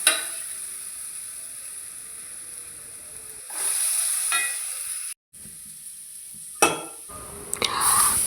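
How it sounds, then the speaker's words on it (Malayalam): Onion, green chili, ginger-garlic paste and ground spices sauté in a pan for a mussel fry, giving a steady close sizzle with brief stirring scrapes and clinks and no talk. "ഉള്ളിയും പച്ചമുളകും ജിഞ്ചർ ഗാർലിക് പേസ്റ്റും ഇട്ട് നന്നായി വഴറ്റിയതിന് ശേഷം"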